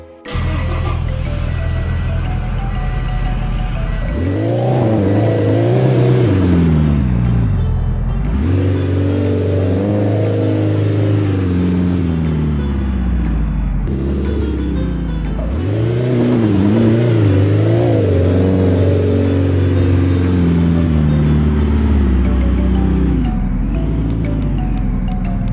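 An old Toyota Kijang in a Roblox driving game accelerates hard, its synthesized engine climbing through gears in repeated rising sweeps, loud and continuous with no talk.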